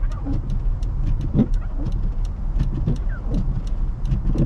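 A car engine running steadily on a snowy road, a continuous low rumble holding at an even level throughout with faint higher ticking above it and no speech over it.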